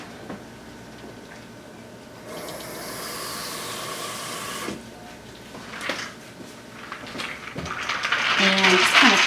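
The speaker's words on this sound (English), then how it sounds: "I need a little bit more water in here" Tap water running and splashing into a bowl of ice water meant to chill a paleo meatloaf's vegetables, starting as a strong hiss partway in, stopping, then clattering and splashing louder near the end.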